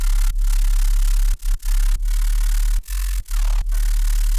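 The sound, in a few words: white noise sidechained to sub bass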